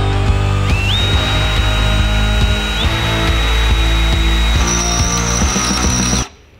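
A power drill bores out rivets on a Porsche 911 GT3 body, a loud, close, high motor whine that steps up in pitch and runs steadily, with light grinding clicks, before cutting off abruptly near the end.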